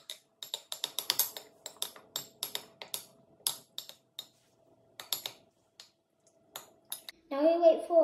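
A spoon stirs lemon or lime pieces into iced tea in a jug, making a series of close, bright clinks and taps against the container in an irregular rhythm, with a brief louder rattle at the end.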